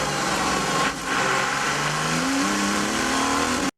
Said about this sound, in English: you get this really kind of almost raspy industrial noise coming from the engine